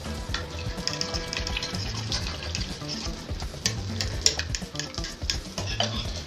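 Butter melts and foams in a pan ahead of scrambled free-range eggs, giving a steady close sizzle with stirring scrapes and some running-water noise mixed in, no voices.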